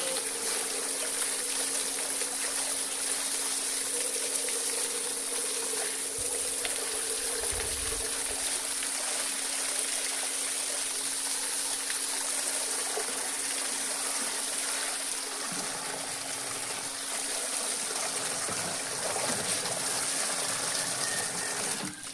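Water gushes and splashes steadily on a farm while something is being washed, a loud continuous rushing flow with a faint low hum beneath it and no speech.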